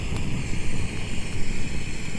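A Jetboil camping stove burner roars steadily while heating water at a windy wild camp on a mountain, a loud, broad, continuous rushing hiss with no speech over it.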